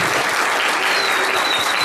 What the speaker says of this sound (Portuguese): eu queria que vocês dessem uma salva de palmas para os professores aqui